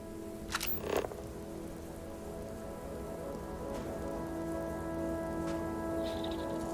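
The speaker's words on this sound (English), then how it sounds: "Freezing liquid rain" Freezing liquid rain in the video game Starfield, a steady close patter of rain hissing continuously, with a couple of louder knocks near the start.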